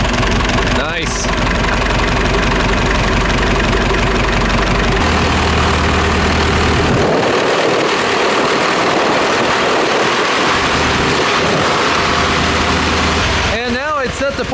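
An old diesel tractor, a 7711, idles just after a full engine rebuild with a steady loud rumbling chug. The engine note changes partway through, and a few brief clanks and knocks come at the start and end.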